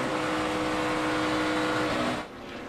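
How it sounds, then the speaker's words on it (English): NASCAR stock car at Daytona during Nationwide Series practice, its engine roaring at sustained throttle with a steady tone, then abruptly backing off as the driver lifts, leaving a quieter drone. "you could hear it was either Cole Whitt or Danica Patrick getting out of the throttle"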